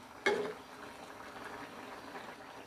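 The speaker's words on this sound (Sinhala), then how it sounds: "යාළුවනේ දැන් මැකරල් ව්‍යංජනේ නටාගෙන ඉන්නේ" Sri Lankan long bean (mae karal) curry simmering in a pot: a brief clink at the start, then a quiet, steady bubbling.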